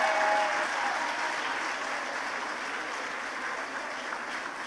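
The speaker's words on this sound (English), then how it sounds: "Can we applaud them?" Sustained applause from an audience at an International Women's Day seminar for the honourees, a dense, even wash of many hands clapping at moderate distance, slowly fading slightly, with no talk over it.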